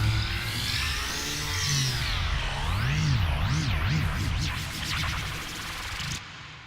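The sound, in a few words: synth effect with curved rate automation made in Sylenth1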